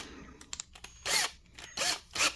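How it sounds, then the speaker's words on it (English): A power drill spins a screw mounted in its chuck, used as a makeshift spindle for knife-making work; three loud whirring bursts of about half a second each, preceded by a few short clicks and handling noises. "I just mount the screw into the drill"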